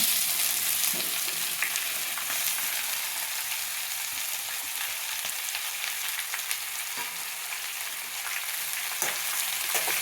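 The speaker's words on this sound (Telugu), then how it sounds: "ఇప్పుడు మనం తరిగి పెట్టుకున్న బీరకాయ ముక్కలు పచ్చిమిర్చి ముక్కలు ఎర్రగడ్డ ముక్కలు వేసుకుందాం" Chopped ridge gourd, green chili and onion pieces frying in hot oil in a pan, giving a steady, fairly quiet sizzle with faint crackles throughout and no talk.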